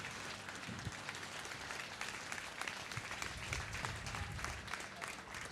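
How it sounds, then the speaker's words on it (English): Trainees and guests at a graduation ceremony give a round of applause after a fire drill, a dense, even burst of clapping that continues for several seconds. "big round of applause for the"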